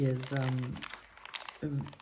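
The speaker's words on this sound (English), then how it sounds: "But the sound of it, the crinkling is really cool." Thin, wrapping-paper-like decorated paper with washi decoration in a handmade nature and botanical junk journal is handled and crinkled, giving close, scratchy rustles between spoken phrases.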